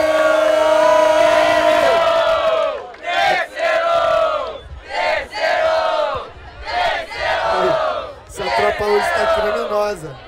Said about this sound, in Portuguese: Faz barulho quem gostou do segundo round.